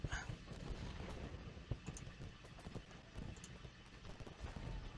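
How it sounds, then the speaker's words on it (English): Artillery fire strikes troops in the Civil War strategy game Ultimate General: Gettysburg, with a scatter of muffled booms and sharp thuds over a busy battlefield bed of rumble and clatter. "Now they're getting hit by artillery, and they have no artillery support."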